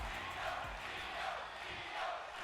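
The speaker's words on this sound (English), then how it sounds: "the crowd here in Brooklyn is behind Io, as you can hear" A large crowd at a Brooklyn fight night roars and cheers continuously at a distance, a dense swell of voices rising and falling.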